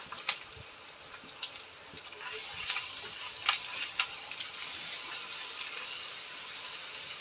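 Onion and garlic paste frying in a pan for a katla fish dish, a soft steady sizzle with brief scraping stirs, fairly quiet and close, with no voices.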